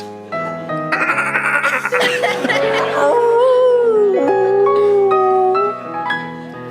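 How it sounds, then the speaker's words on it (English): Loud, wavering goat-like bleats from a dog, drawn-out and nasal, rising and falling close by over a few seconds, with some short chattering bursts mixed in. "this freaky dog that sounds like half goat and half rat"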